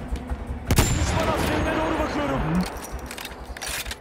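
An anti-tank gun firing in Battlefield 1, with one loud, sharp blast early that echoes out over the constant rumble of battle and softer distant shots. Voices talk faintly underneath.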